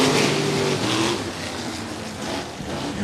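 IMCA RaceSaver sprint cars racing at Stuart Raceway, a dirt-track engine roar heard from a distance, a steady rumbling wash with engine tones rising and fading as the cars pass.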